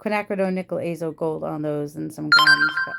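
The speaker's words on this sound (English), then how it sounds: "Sorry about that. That was my phone." A phone ringtone chimes in with bright electronic tones near the end, cutting in over someone talking close to the microphone during a collage-making session.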